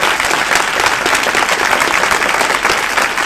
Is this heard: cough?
no